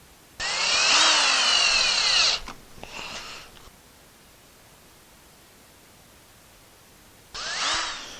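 A power driver sinks number 8 Robertson screws into a wooden pegboard shelf in two loud, close bursts of whining motor and grinding, its pitch shifting as each screw seats, with a brief clatter in between and a quiet pause.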